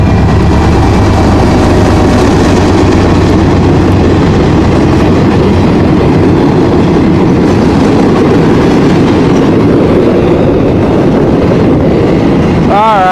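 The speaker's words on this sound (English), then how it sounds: "a CN C40-8 leading a rail train" A CN C40-8 locomotive leads a rail train past, a loud, close, continuous rumble of engine and rolling wheels with steady clatter throughout.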